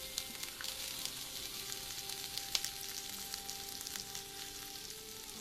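Onion, dried chillies, cumin, ginger and garlic roast in a pan for crab masala, giving a steady, quiet sizzle with occasional crackles and soft stirring.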